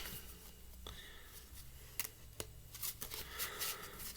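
A deck of cards being shuffled one-handed, quiet papery riffling with a few sharp snaps and flutters building toward the end, close up and without speech.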